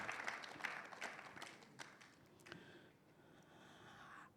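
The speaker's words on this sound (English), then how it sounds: "A round of applause for our government statistician again." Audience applause at the official release of a Ghana Statistical Service governance report, honouring the government statistician; a steady, moderately faint patter of clapping from a seated crowd that gradually thins and softens.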